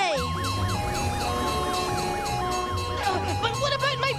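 A wailing emergency siren rises and falls repeatedly, loud and close, with a rumbling engine underneath and a faster warble toward the end.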